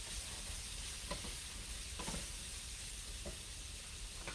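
Shredded cabbage and bacon bits sizzle in a frying pan, a soft steady hiss broken by a few faint scrapes as the food is stirred, heard at a low level without speech.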